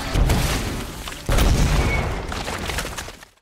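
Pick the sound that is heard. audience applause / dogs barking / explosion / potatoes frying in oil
explosion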